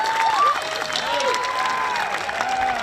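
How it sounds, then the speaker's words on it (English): A crowd at a high school graduation ceremony claps steadily, with scattered cheers and whistles rising over the continuous applause. "How about a round of applause for Emma running the show here?"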